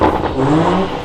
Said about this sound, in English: let's give it a quick rev up now